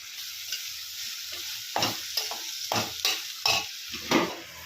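Ginger paste is stirred into goat tripe frying in a pan for Andhra-style gongura boti, a steady sizzle broken by five or six loud scraping strokes of a spoon, close and without speech.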